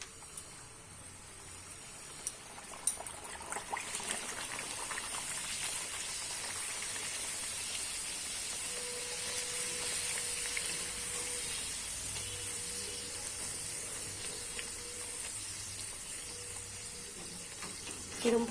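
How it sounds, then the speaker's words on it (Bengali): Pea-stuffed kochuri deep-fry in hot oil in a wok, giving a steady, close crackling sizzle that holds throughout, with a faint hum in the background. "আমি কড়াইতে তেল বসিয়ে দিয়েছিলাম, তেল গরম হয়ে গেছে, এবার আমি কচুরিটা ভেজে নেব।"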